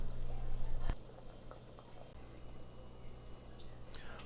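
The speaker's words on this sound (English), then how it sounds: "I'm bringing some water to the boil, and then I'll add the almonds in and boil them to blanch them slightly." A pot of water on the stove heats to a boil for blanching almonds, with a steady low bubbling and a faint patter. A sharp clink sounds early, and the whole clip stays close and fairly quiet.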